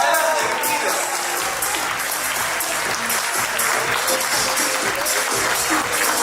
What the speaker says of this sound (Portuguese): Fuerte las palmas para José Luis hasta que llegue